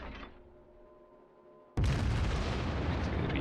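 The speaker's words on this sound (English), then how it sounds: "Readjust and lob those shells over the islands" Kongo battleship main guns fire a broadside in World of Warships: a sudden loud blast after a quiet hum, then a sustained roaring rumble.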